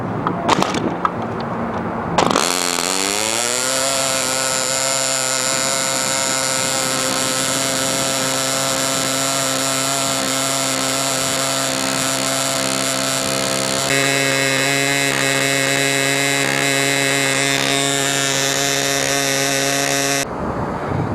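A model airplane engine runs at a steady, loud high-pitched whine for about eighteen seconds, rich in harmonics, with a slight pitch shift partway through before it cuts off.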